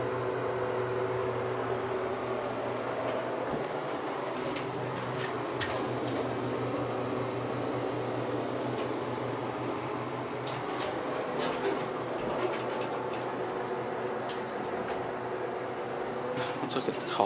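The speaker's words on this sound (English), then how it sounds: "This is the elevator at 290 Robert Street." Montgomery Vector hydraulic elevator at 290 Roberts Street, East Hartford, Connecticut, running with a steady, even mechanical hum and fan-like whir, with faint intermittent clicks throughout.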